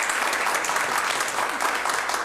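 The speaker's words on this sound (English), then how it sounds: "Let's clap one more time for Courtney" Attendees at a city council meeting give a warm round of applause for a colleague, a dense, steady wash of many hands clapping close by, loud and continuous without speech over it.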